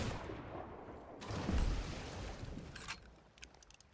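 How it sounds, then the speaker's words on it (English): A cannon fires in a pirate video game, a deep booming blast that swells and then rolls off into rumbling decay, with faint sharper clicks trailing after. "Oh, I forgot about there being a cannon there."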